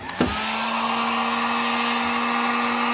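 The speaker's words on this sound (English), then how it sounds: "applying heat, you can use your hair dryer" A hair dryer blows heat onto sticker glue on glass, switched on with a short click and then running as a steady, close whirring drone with a constant hum throughout.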